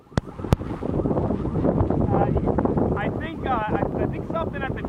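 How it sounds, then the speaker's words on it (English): An alarm siren wails through vicious hurricane wind during Hurricane Florence, rising and falling wavering tones cutting over constant roaring wind noise, with sharp gusty buffets at the start. "do you know what the siren is behind you right now?"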